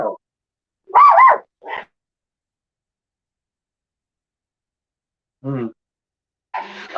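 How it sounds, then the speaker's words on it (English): Dogs barking out in a yard: a few short, separate barks in two brief clusters with long silent gaps between them, moderately close. "No wonder they barking."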